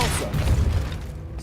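A Depulso force spell is cast in Hogwarts Legacy, a short, heavy thumping blast with a whooshing push that fades within about a second.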